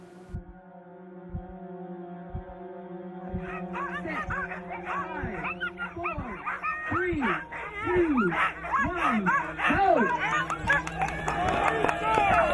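Sled dogs at the start of the Iditarod race to Nome: a chorus of excited barks and yelps builds from a few near calls into dense overlapping barking, with a constant low hum and crowd voices beneath.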